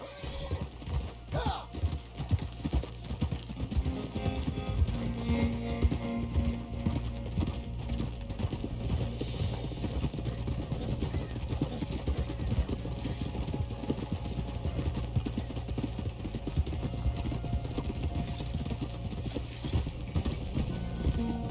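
Horse hooves clip-clopping at a steady walking rhythm in the Red Dead Redemption 2 video game, continuous and moderately quiet under soft ambient game background, with a brief whinny-like sound early on.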